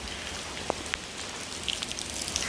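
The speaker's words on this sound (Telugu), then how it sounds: "చాలా రోజుల తర్వాత వర్షం పడుతుంది కదండి" Steady cyclone rain falls nearby, a soft continuous hiss with a few distinct drops pattering on a surface.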